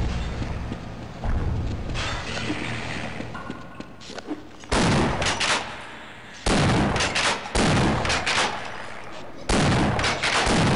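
Loud bursts of gunfire in the PC game Half-Life, several heavy volleys in quick succession separated by short pauses, over a constant rumbling background.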